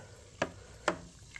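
Two short sharp fizzing bursts from a bucket of wisteria lime mead with active yeast as it is stirred, separated by quiet and followed by a fainter third pop.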